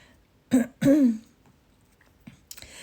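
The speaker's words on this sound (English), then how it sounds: "This cough doesn't seem to be going." Two harsh, throaty coughs or throat clearings in quick succession, close and loud, followed by a couple of fainter rasps in a quiet room.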